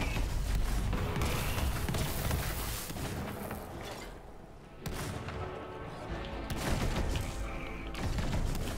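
Dense, continuous gunfire from Borderlands 3 fills the scene, booming shots and explosive thuds layered into a loud barrage, easing briefly in the middle before the firing picks back up.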